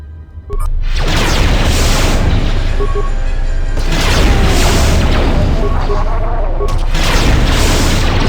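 A grenade goes off in Star Wars KOTOR 2, with loud booming blasts and rumbling explosion noise that fill the scene, breaking into repeated heavy bursts.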